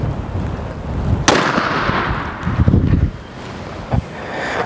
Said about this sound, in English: the little 410, shooting the Winchester Super X, 3-inch, 11/16 ounce, number 6 shot